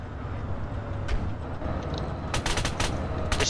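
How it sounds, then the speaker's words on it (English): Automatic machine gun fire in the military video game Arma 3, heard as a few sharp bursts of rapid shots over a steady low rumble of vehicle engine noise, fairly loud and close. "Fire with a machine gun."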